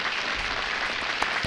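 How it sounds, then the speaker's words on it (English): A small group applauds with steady, dense clapping close by, a brief continuous burst with no talking over it. "Give a round of applause to yourself, Andre."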